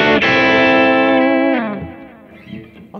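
Electric guitar through a Kemper studio EQ with accented mid peaks rings out one loud, sustained, effects-laden chord that fades after a second and a half into quieter residual noise.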